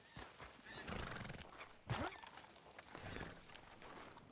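Goldie, a horse in Red Dead Redemption 2, lets out a sharp whinny midway through, amid soft hoof clops and rustling movement, fairly quiet overall with no speech.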